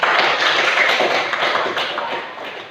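Students in a classroom clap their hands together in steady, dense applause that fills the room and stays loud throughout, tapering slightly near the end.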